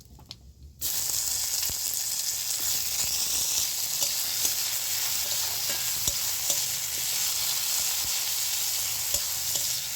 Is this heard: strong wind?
no